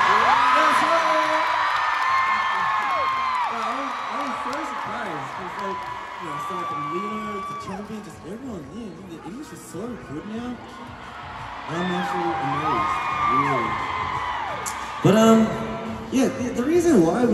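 Concert crowd at a show in Chicago whooping and cheering, a dense roar of many voices with high shouted whoops, swelling again near the end, with a performer talking over it.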